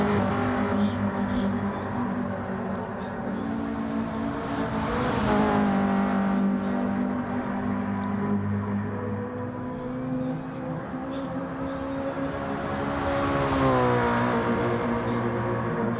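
A race car engine in a sim racing game during an online championship race, loud and continuous, revving up and easing off through the gears in repeated surges.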